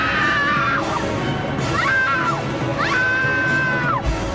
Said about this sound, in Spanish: El grito que ella lanzó permitió que todos los departamentos contiguos se enteraran de lo que allí había sucedido